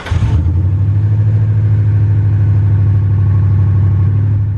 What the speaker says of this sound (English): So what we're gonna do is do a cold start on both these trucks